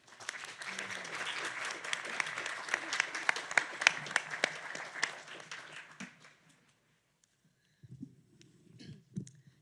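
An audience at a Catholic publishing panel claps steadily for about six seconds, a dense crowd applause that fades out, followed by a short quiet gap and faint shuffling.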